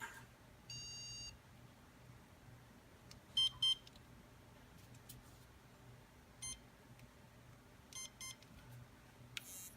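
A Garmin e-collar remote switching modes, giving several short electronic beeps in small clustered bursts, including a rapid repeated chirp early on and paired tones spaced across the stretch, close and clear against a quiet background.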